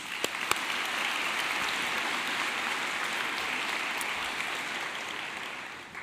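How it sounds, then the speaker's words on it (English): Sustained applause from a large crowd at a university fall commencement ceremony honoring arts, sciences and nursing graduates, a dense, steady clapping that fills the hall for about six seconds before easing slightly at the end. "Let's give them another round of applause."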